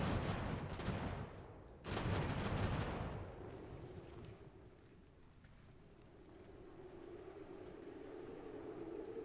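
An artillery battery firing a salvo in Ultimate General: American Revolution, set at the Battle of Boston: two loud rolling bursts of cannon fire early on, then a fading rumble and low steady drone.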